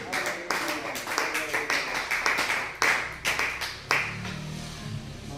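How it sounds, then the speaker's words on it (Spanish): Rhythmic hand clapping from a church congregation during a sermon, steady and fairly loud, with sharp accents every beat or so and a pastor's voice speaking underneath. "Aplauda fuerte el nombre de Jesús"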